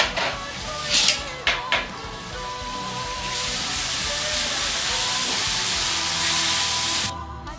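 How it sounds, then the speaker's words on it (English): Onions dropped into hot oil crackle at the start, then settle into a steady, loud, close sizzle that holds for several seconds before cutting off abruptly near the end. "now the oil is hot enough. We put our onions"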